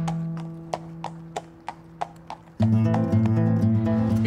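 Horse hooves clip-clop in a steady, evenly spaced rhythm of sharp knocks over a low hum, continuing as swelling music enters partway through.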